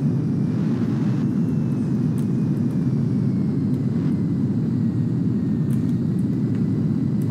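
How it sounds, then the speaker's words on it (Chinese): Airplane in GTA 5 rolling toward takeoff, a loud, steady low engine roar with a faint rising whine above it, continuous and unbroken. "等下就可以直接顺利起飞"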